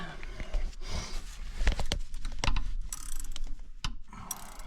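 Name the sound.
ratchet spanner turning a socket on a Dodge Aspen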